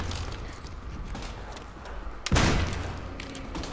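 Gunfire against zombies in Call of Duty: World at War Zombies, a steady rattle of shots under game noise with one louder boom-like burst partway through.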